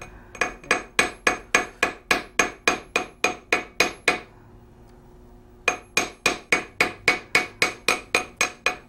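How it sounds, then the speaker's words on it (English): Hammer striking looped metal pieces to flare them out, a steady run of sharp ringing blows, a pause of over a second, then the same even hammering resumes, close and loud with no voices. "So now we're going to hammer on the pieces that we've looped out."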